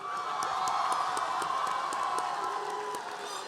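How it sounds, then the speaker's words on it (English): Applause and cheering from a high school graduation crowd for the Business Academy, with steady dense clapping, scattered whoops and crowd noise held at an even level throughout. "another nice round of applause for the Business Academy"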